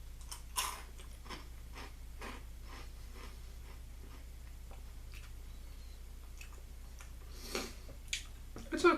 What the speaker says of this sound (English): I'm going to take a bite of a few pieces and see how it tastes dry